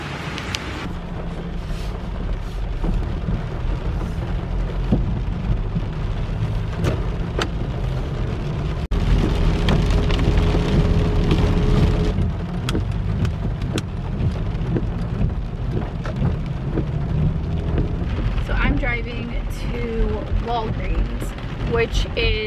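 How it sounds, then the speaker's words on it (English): Steady rain falls throughout, a dense even hiss with occasional heavier bursts and faint rumbles, no voices heard. "we are going on a little trip in the rain"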